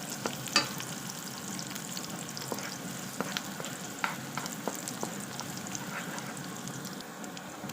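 Ginger sautés in a hot pan for sotanghon gisado, a continuous bright frying hiss with scattered pops and light utensil taps, close and steady throughout.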